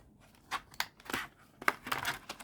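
Scissors snip through the band wrapped around a sealed Japanese trading card pack, several crisp, close cuts spaced irregularly over about two seconds.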